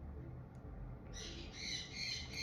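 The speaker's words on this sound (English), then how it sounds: "you hear those birds?" Outdoor birds give sharp, high squawking calls that start partway through and repeat in short bursts, over a low background rumble.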